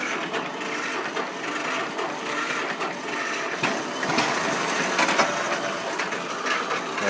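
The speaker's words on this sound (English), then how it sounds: "And that'll get the engine rolling over." A John Deere Model B tractor engine turning over as the starter pedal is pressed, a steady, dense mechanical churning that runs continuously and fairly loud throughout, with no voices.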